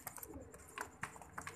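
Soft pigeon coos sound faintly nearby, mixed with light fluttering and background rustle.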